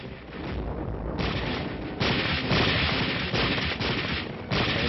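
Live ammunition gunfire crackles in sustained, dense bursts during street-fighting training in a mock village, loud and continuous with layered volleys throughout.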